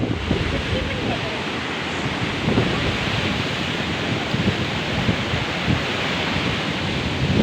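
Sea waves on a rocky shore wash in as a continuous broadband roar, with wind buffeting the microphone throughout and no distinct breaks between surges.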